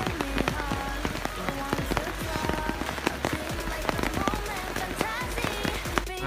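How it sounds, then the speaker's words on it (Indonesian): Rain patters steadily on hard surfaces at the Borobudur temple in Indonesia, a dense, close, irregular spatter of drips and splashes lasting throughout, with faint voices in the background. "ini sayang banget cuacanya hujan ya"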